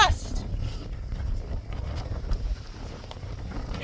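A strong wind gust on a hiking trail in the mountains between Idyllwild and Big Bear, heavy rumbling buffeting against the microphone that is loudest at first and then eases into a steady roar.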